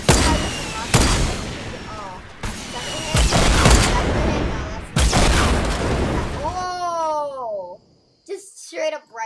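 Rapid bursts of rifle gunfire in Fortnite Battle Royale ring out loud and close in several volleys, followed by whooshing, warbling game effects and short electronic sounds.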